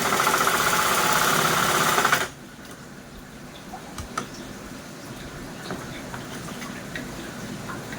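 A sewing machine stitching a fridge cover, a loud steady mechanical whir for about two seconds before it stops abruptly, followed by quiet fabric handling with scattered light ticks and taps.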